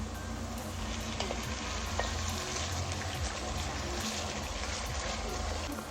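Meat for Kazakh plov fries with reddened onions in hot oil, giving a steady, dense sizzle throughout, with occasional faint clicks from a spoon or pot.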